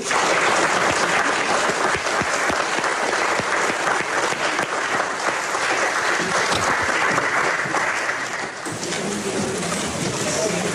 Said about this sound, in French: On peut applaudir un nouveau baptisé.